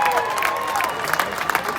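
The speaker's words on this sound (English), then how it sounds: "can we all get one big round of applause for the athletes" A crowd at a welcome-home celebration in Perth for Australian Olympians and Paralympians claps and cheers in a dense, steady burst of applause that carries through the whole short stretch.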